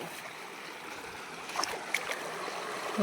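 Steady broadband rush of flowing water, like a stream running continuously, with a few faint clicks and splashes near the end.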